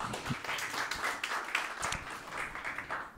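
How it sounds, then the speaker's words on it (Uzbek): A small studio audience claps in a steady patter of applause for a few seconds, moderately quiet with no voices over it. "Zarina, olqishlab bersanglar biz boshlaymiz."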